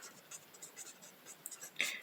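A pen writes by hand during a math lesson, soft close scratchy strokes in a quiet room, ending with a slightly louder scrape.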